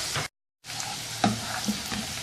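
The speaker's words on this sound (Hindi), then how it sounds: "तेल गरम हो जाए तो इसमें शामिल करेंगे 1 दरमियाने साइज़ का प्याज बारीक कटा हुआ।" Finely chopped medium onion goes into four spoons of hot oil and sizzles loudly and steadily, broken by a short silent gap and a few sharper crackles and stirring knocks.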